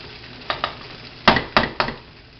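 Shrimp noodle stir fry cooking in a pan, a soft sizzle broken by several sharp scraping and clanking stirs against the pan, spaced irregularly and fairly close.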